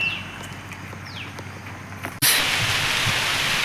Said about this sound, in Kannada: ಮತ್ತೆ ಮಳೆ ಗಾಯ್ಸ್, ಮತ್ತೆ ಮಳೆ ಚೆನ್ನಾಗಿ ಕಾಣ್ತೈತೆ ನೋಡಿ